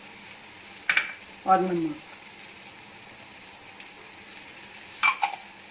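Raw mango pieces coated in chilli powder, turmeric and other spices sizzle faintly as they roast in a pan over low heat, a soft steady frying hiss with a few brief stirring scrapes, while a voice speaks briefly.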